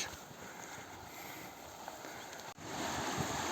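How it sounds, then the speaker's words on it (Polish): Water of a river or lake heard outdoors as a continuous low rushing wash, mixed with wind buffeting the microphone, steady and fairly faint throughout. "Już słychać wodę, aż się boję podejść."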